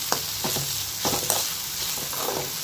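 Vegetables sautéing in a pan for semiya kichadi, loud close sizzling broken by repeated stirring scrapes in an uneven rhythm, with no voices.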